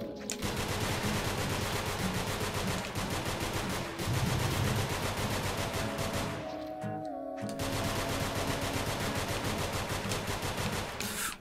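Rapid, continuous gunfire rattles almost without pause through the NONGÜNZ rogue-lite game, loud and dense, with one brief lull around the middle before the shooting resumes.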